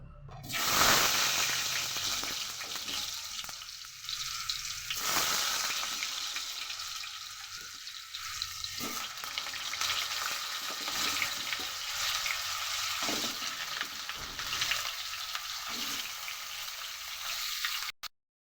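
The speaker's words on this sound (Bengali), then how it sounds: "তেল গরম হয়ে গেছে দেব হচ্ছে আলু" Potatoes dropped into hot oil, a loud close sizzle that stays steady and busy, with bubbling surges and brief quieter dips, and no talking.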